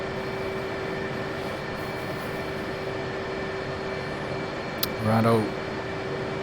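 Aircraft engine running steadily in a flight simulator game, an even droning hum throughout with constant tones. Near the end someone briefly speaks over it.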